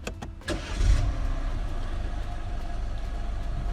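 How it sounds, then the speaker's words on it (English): A BMW F20/F21 1 Series engine cranks briefly and catches, then settles into a steady idle close by, with no talking. "put my foot on the brake and start the car up"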